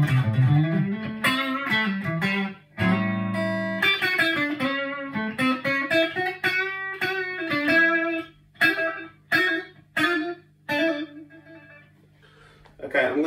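A Squier Stratocaster electric guitar plays through a clean amp with no reverb, strummed chords and picked notes on the neck pickup, close and moderately loud, with pauses between phrases.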